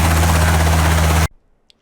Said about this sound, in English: Same helicopter, different time.